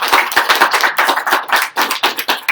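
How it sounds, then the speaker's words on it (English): Close, lively applause rises from a live Real Madrid Q&A audience in Chicago, brisk overlapping handclaps filling a short burst at steady volume. "round of applause for Tim"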